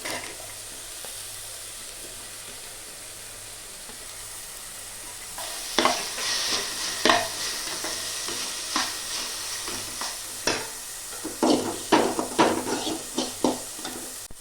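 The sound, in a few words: vegetables being added and stirred in a sizzling pan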